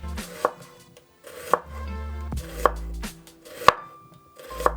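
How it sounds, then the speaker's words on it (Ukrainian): A knife thinly slices a vegetable lengthwise against a board in five sharp, evenly spaced strokes, close and distinct, with quiet pauses between cuts. "І ось таким чином тоненько поздовж нарізаю, щоб виходили ось такі пір'їнки."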